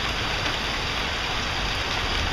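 Steady rain pours down hard and close on a hurricane-season day at a roofing job, a dense, unbroken hiss with no voices.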